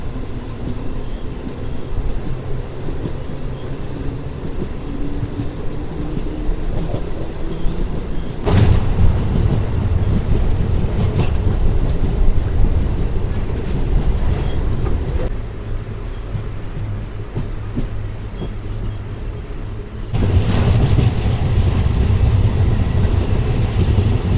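A MEMU train running from Vijayawada to Visakhapatnam rumbles loudly and steadily from the inside, with rattling carriages and shifting track noise throughout.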